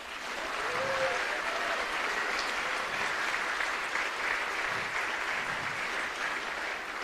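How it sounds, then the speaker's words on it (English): An audience claps steadily for several seconds at a Formula SAE award ceremony, a dense, even wash of applause that fades slightly at the end. "give our sponsors a big round of applause as well"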